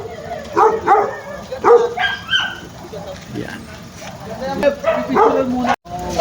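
Several dogs bark and yip at a stray animal shelter, short sharp barks coming in bursts, close by and mixed with people talking.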